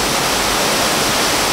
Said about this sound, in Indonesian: Ada air terjun di dalam sini.